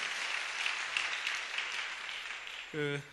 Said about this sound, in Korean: 우리 박수로 한번 환영해 주시기 바랍니다.